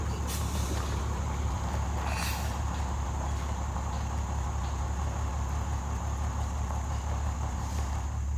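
A 1947 Silversides bus with a Detroit Diesel 671 engine approaches, a loud constant diesel rumble and roar heard from outdoors, with a brief hiss near the start.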